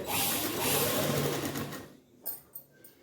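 Sewing machine with a motor stitching fabric in a home tailoring setup, a steady loud whirring run for about two seconds, then stopping with a few short clicks and bumps.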